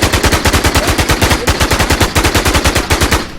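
Automatic gunfire from a video game, a loud, close, rapid rhythmic burst of shots sustained steadily for over three seconds with no talk.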